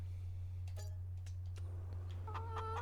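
Chickens in Farming Simulator 25 cluck softly in short, scattered calls over a constant low electrical hum, with the louder clucks bunched toward the end.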